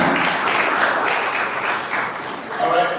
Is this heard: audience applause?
yes